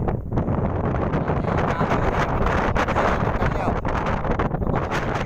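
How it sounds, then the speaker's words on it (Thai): Dry wind blows hard into the microphone outdoors while someone is out gathering mushrooms, a loud, constant buffeting rumble that fills the whole stretch with a roaring gusty hiss. "ลมแห้งครับ พี่น้องลมแห้ง"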